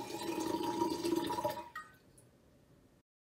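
Hailstorm water gathered in July is poured out in a steady splashing stream for about a second and a half, then it stops and a few faint drips and trickles follow before silence.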